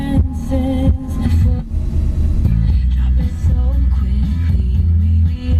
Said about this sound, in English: It's got nice speakers with some nice bass to it.